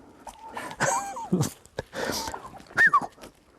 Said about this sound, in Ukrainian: Держим що індиков. Хороша птиця, ну вредна.